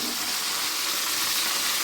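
Pakodi frying in hot oil in a home kitchen, a steady broadband sizzle that stays even and close throughout.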